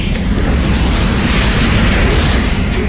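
A dense, roaring explosion effect rumbles continuously for a few seconds, loud and full, like massive blasts in a space scene, with no voices.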